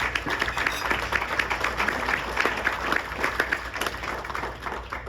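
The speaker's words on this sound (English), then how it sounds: "Let's give them a round of applause." Dinner guests applaud at a charity mission event in Fort Myers, giving a round of clapping for the health partners named: a continuous patter of many hands in a large room, moderately loud and even throughout.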